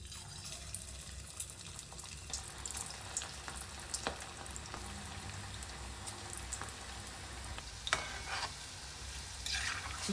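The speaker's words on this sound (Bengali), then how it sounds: "চিকেন পকোড়াগুলো সাদা তেলে ভেজে নেব।" Chicken pakoras frying in white oil in a home kitchen, a soft continuous sizzle and crackle with occasional sharper pops and stirring clinks, fairly faint and steady with no talking.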